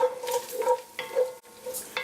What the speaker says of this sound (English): the pancetta has been frying for about 19 minutes